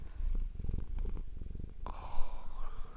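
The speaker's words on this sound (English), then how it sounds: "He's purring now, though." Close, soft purring from a contented male cat, a steady rhythmic rumble with breathy pulses, joined near the end by a higher, brighter sound.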